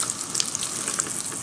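Water runs steadily from a Kohler kitchen faucet, model K-R75791-2PC-NA, with the cold side pushed fully open but flowing at low pressure, giving a continuous close hiss with no talking.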